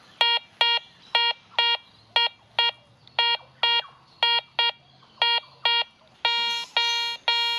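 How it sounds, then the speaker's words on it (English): A Garrett ACE 400i metal detector sounds a medium audio tone, a series of crisp, evenly repeated electronic beeps close by, about a dozen short pulses followed by a few longer ones at the end. "This is a good example of the medium audio tone with a medium target ID."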